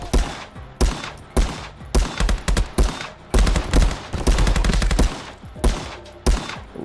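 Rapid bursts of automatic gunfire in a GoldenEye 007 virtual reality mod, loud and close, arriving as repeated short volleys with brief pauses between them.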